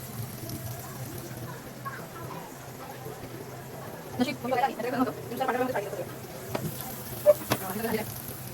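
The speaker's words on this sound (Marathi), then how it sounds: "आता हे एक एक पीस आहेत. तेलामध्ये सोडते." Surmai fish pieces frying in oil over medium gas, a soft steady sizzle with scattered crackles and pops, a few louder spatters, under a quiet background.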